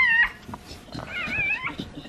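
A newborn puppy cries in thin, high whimpering squeals, a few short rising and falling whines close by with soft rustling between them.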